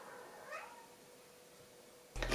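A cat in a room gives a soft, brief meow early on against quiet room tone, followed near the end by a sudden louder burst of noise close by.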